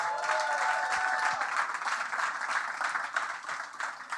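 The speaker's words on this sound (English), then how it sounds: "can we just give ourselves a round of applause for today?" A live audience breaks into a sustained round of applause at a community conversation event, dense and steady clapping that fills the room before gradually thinning toward the end.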